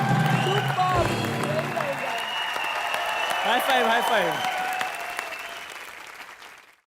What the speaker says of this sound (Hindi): एक बार मुबीन के लिए जोरदार तालियां हो जाए